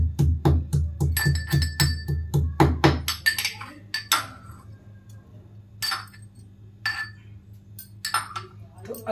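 Ginger dropped into a metal cooking pot, a run of rapid clinks and knocks followed by scattered sharper clatters, close and fairly loud, with someone talking in Hindi over it.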